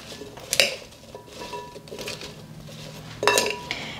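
Food seasoned with Auntie Nono's Steakhouse Seasoning Salt tossed in a bowl, with two sharp clattering knocks of utensils against the dish and lighter scraping between them, close up.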